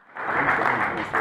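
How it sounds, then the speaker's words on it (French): A crowd at a political opposition platform gathering bursts into brief applause, a dense wash of clapping lasting about a second. "Sous vos applaudissements, M. Vidal."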